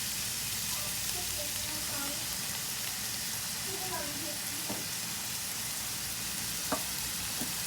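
Chopped capsicum frying in a pan, a soft continuous sizzle with a few light stirring clicks, fairly quiet and steady throughout.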